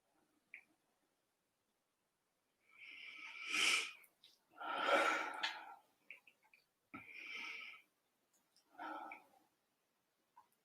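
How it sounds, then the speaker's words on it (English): A speaker leading a meeting audience takes several slow deep breaths, each a breathy rush of air in and out, close and fairly quiet, separated by pauses of silence. "So 5 deep breaths."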